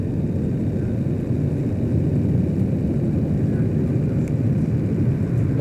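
Military aircraft taking off from Incirlik during the 1991 Gulf War fill the air with a loud, steady, low rumbling roar that holds evenly without any break.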